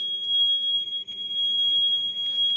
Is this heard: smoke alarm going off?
yes